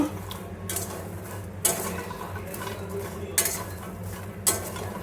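Makhana (fox nuts) being stirred and fried in a pan, with repeated scraping and clattering of a utensil against the metal and a few sharper knocks over a steady background hum, no talking.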